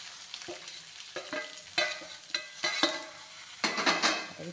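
Bell pepper and a pinch of asafoetida go into hot oil over softened onion in a pan for a Marathi-style capsicum stir-fry, with soft sizzling and intermittent scraping and clinking of a spoon against the pot.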